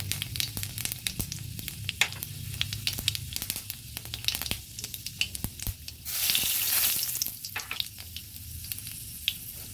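Panch phoron spices sizzling in hot oil in a wok for a Bengali katla fish curry with green banana, a steady close crackle with scattered pops and a louder, denser burst of sizzling partway through.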